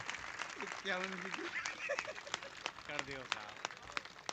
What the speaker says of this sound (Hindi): बताओ, जोरदार जोरदार तालियां।